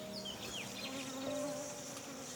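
Honey bees buzzing faintly in a steady hum, with individual bees droning past and shifting in pitch, no voices.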